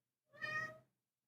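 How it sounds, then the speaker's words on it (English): A gray cat gives a single clear, close meow lasting about half a second, alone in a quiet room. "He's the gray cat."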